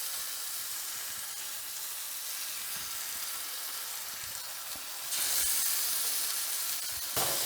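Lamb rib chops sear in a hot oiled pan over medium-high heat, a loud continuous sizzle and hiss that swells louder partway through, close up with no talking.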